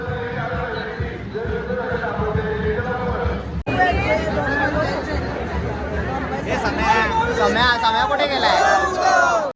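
Dense Sunday crowd at Ekvira Devi temple, a continuous babble of many overlapping voices close by, with a nearby person calling out and chatter swelling toward the end.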